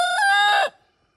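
A rooster crows once in a loud, close, drawn-out call with no other sound, cutting off abruptly into quiet.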